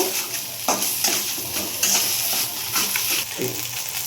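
Slit green chillies are sautéed in a pan for a rohu fish curry, with a steady oil sizzle under repeated scraping and stirring strokes of a spoon against the pan, close and fairly loud.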